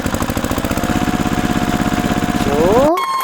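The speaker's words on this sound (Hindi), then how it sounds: "इसका ट्रैक्टर चलेगा बच्चों" A toy tractor engine runs with a fast, regular putter and a rising whine near the end, then cuts off abruptly into a short tonal hum; loud and close, no voices.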